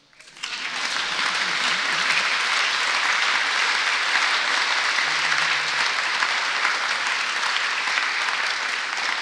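Sustained audience applause at the Standing Bear statue ceremony, building quickly and holding steady and loud as a broad wash of many hands clapping, with no talk over it.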